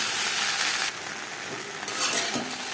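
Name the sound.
okra (bhindi) frying lightly in refined oil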